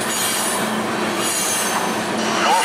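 A train rumbles past close by, its wheels squealing and hissing steadily along the rails in a loud, continuous wash of noise.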